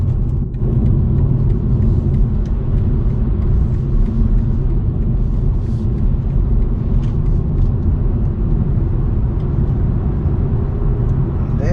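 A tuned BMW G20 320d with a 2-litre diesel engine drives along, giving a steady, close, low engine drone and road rumble that holds evenly throughout with no speech.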